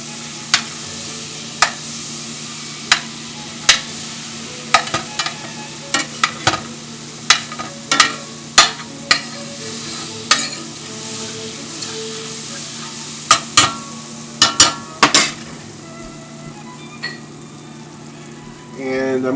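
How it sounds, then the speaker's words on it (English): A stick of butter melts in a heated pan, giving a steady sizzle and frying hiss with repeated sharp clicks and scrapes of stirring across it. "I have my pan, it's been heating, and I'm going to add the stick of butter."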